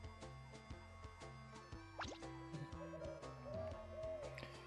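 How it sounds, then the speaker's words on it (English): Barn owl call in the Zoboomafoo video game on PS1, a soft hooting over looping game music, quiet and steady in the background. "A barn owl."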